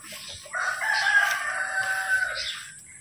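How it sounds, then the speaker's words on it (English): Egg-laying chickens make a close, loud, drawn-out squawking call lasting a couple of seconds, alone in a quiet rural yard. "laying egg chicken."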